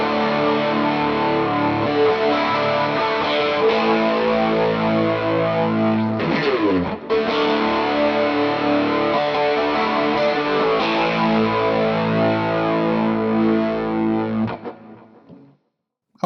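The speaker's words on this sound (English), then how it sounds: "Chorus." An electric guitar played through an amp modeler with a chorus effect rings out in sustained, slightly distorted chords, shimmering steadily for about fourteen seconds before decaying to silence; no talking.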